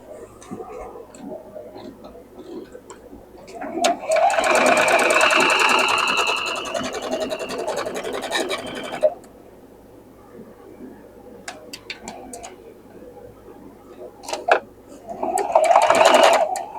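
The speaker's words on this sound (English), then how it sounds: "we're going to sew this piece onto here" Sewing machine joining quilt block pieces: a close, rapid stitching burst lasting about five seconds, then quiet handling sounds and small clicks, followed by a second short burst of stitching near the end.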